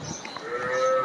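A bovine call rises from a Qurbani cattle market in Bangladesh, a brief, close moo or low bellow that swells and holds for about a second.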